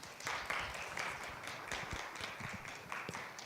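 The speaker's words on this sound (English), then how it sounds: "Let's give a round of applause for my dearest friend, Dome Lupac" Scattered applause from a small audience at a health-equity talk, a spread of quick, soft claps running steadily throughout at a low, slightly distant level with no speech over it.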